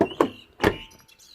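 A BMW 118d E87 car door opens and thumps shut, two quick mechanical clunks close by with a brief rattle between.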